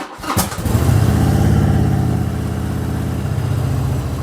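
A motorcycle engine cranks briefly and catches, then settles into a steady, close, loud idle that continues to the end.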